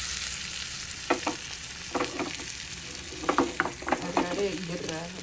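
Food sizzles and fries in a pan on a steady stove, with scraping stirs cutting in repeatedly over the continuous hiss; a few brief voice sounds rise in the background.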